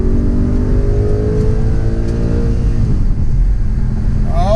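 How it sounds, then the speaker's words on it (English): An Audi R8 Spyder with a V8 engine revs hard and accelerates, a loud, close, continuous roar with rising pitch that dominates throughout. "Now I know it's the V8 and it's not the V10, but the car still makes a crazy sound."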